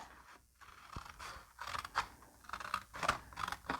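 Close, quiet snipping and crunching of scissors through paper or thin card during papercraft, several short cuts in an uneven rhythm.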